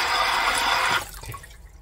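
Water gushes and sloshes loudly as a Doogee S200 dual-screen rugged phone is submerged for a waterproof test, a dense rushing splash that stops abruptly, leaving faint trickles and drips, close by and without speech.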